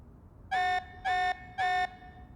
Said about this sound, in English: This alarm's worrying.